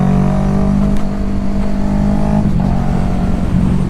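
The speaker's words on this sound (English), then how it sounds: "I think it sounds pretty nice, even though, it's not a 4-cylinder. It's a V-twin." A V-twin motorcycle engine running steadily and loudly up close, a continuous throbbing rumble with a brief dip in pitch midway, as if shifting or rolling off the throttle.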